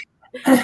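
A single close, loud sneeze bursts out after a brief quiet intake of breath during an indoor conversation.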